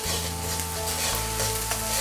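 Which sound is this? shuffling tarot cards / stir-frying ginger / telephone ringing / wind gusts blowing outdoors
stir-frying ginger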